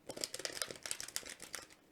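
Tarot cards being shuffled by hand during a live reading, a close, rapid papery riffling and flicking that rises and falls in quick bursts for about two seconds before trailing off, with no talking.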